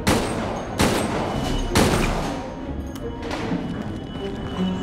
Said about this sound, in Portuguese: tomar tiro de Magno na cara, né?